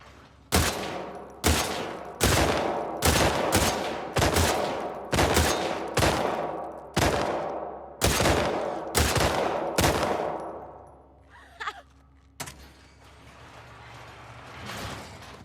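Gunfire in The Last of Us Part II during a full-magazine shooting contest: about a dozen loud, sharp single shots in a quick, slightly uneven rhythm, each with a short decaying tail, followed by mechanical clicks and a quieter stretch.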